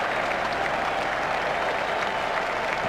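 A cricket crowd at a one-day international between the West Indies and Australia applauds a boundary shot, a dense, steady wash of clapping that stays loud and even throughout with no voices over it.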